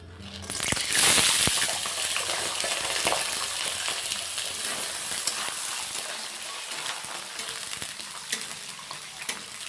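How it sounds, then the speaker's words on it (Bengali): Soaked raw chickpeas fry in hot oil in a wok, a steady loud sizzle with stirring scrapes and crackles that swell early and then hold even to the end, no voices. "কাঁচা ছোলা ভেজিয়ে রেখে এখন সেটাকে একটু ভাজা করবো"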